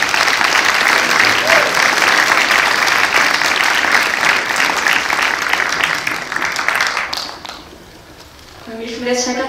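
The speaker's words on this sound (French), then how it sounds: "on peut l'applaudir" A cinema audience applauds at a film screening, loud sustained clapping from a full theater that gradually thins out, then a voice starts speaking near the end.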